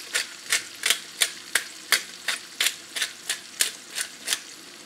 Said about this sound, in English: I'm going to get that stirring going.